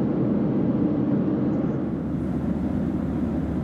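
Cabin noise inside a Qantas Boeing 737-800 airliner cruising in flight: a constant, even, broadband engine and air roar with no voices.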